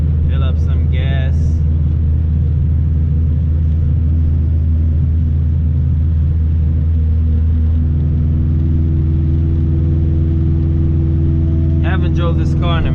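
A B20 swapped Honda Civic engine hums steadily at low revs while driving, a constant close rumble throughout, with a voice speaking briefly at the start and again near the end.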